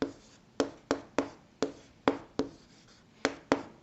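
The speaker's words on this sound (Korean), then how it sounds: "왼손으로 글씨를 못 써요, 이렇게." Pen strokes on paper, made by hand with the left hand: nine sharp, evenly paced taps and scratches, close and fairly quiet, with no voice over them.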